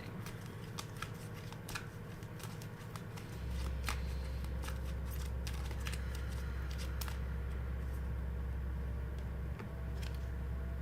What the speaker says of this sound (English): So Christiana, let's see what the cards are saying.